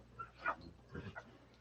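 Faint, thin whimpers and squeaks from a newborn blue puppy, a few brief high cries in quick succession, close and quiet against a hushed room.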